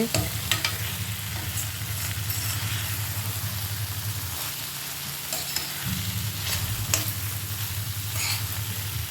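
Eggplant stir-fry sautés in a pan, giving a steady, soft sizzle with occasional scraping stirs, close and fairly quiet throughout.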